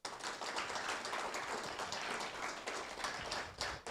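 A studio audience at a Tamil junior singing competition claps together, a dense, steady patter of many hands held at even loudness for about four seconds with no voices over it.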